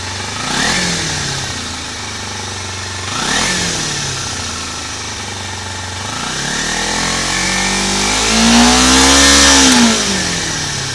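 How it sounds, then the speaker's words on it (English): Kawasaki Ninja motorcycle exhaust, still warming up, idling between repeated throttle blips: short rising revs followed by a longer, louder rev that swells and falls back near the end. "Do one more exhaust test here."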